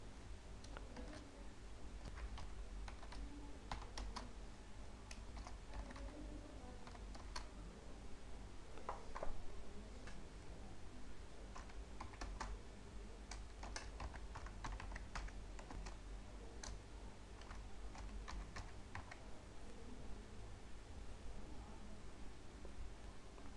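Steady, quiet tapping of a computer keyboard as a scheme name for a drinking-water project is typed into a form, with irregular clusters of keystrokes continuing alone for over twenty seconds.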